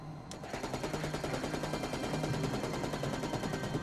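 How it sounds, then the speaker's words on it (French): A sustained burst of 30 mm cannon fire, a fast, even stream of loud, heavy shots starting almost at once and running steadily to the end, with no talk over it. "J'ai tiré une rafale de 64 munitions de calibre 30 mm."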